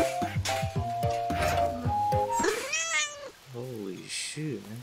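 A cat nextbot in the horror game Nextbot Graveyard meows repeatedly in quick, pitch-bending cries over a steady game music loop, loud and close.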